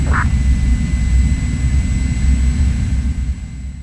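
A fixed-wing airplane's engine drones steadily and loud through a Project IGI video game cutscene, a continuous low roar with no talking.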